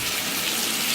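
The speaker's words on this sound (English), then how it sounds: "you see how water still comes out of the spout" Water runs steadily out of a bathtub spout with a new Delta shower diverter, a continuous close hiss and splash that stays even and uninterrupted throughout.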